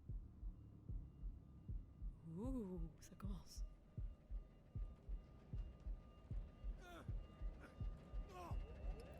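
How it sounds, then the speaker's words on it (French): A slow, steady heartbeat thumps throughout in the video game Shadow of the Tomb Raider, a low regular pulse under soft game ambience, with someone speaking briefly over it. "vous devriez entendre un battement de cœur"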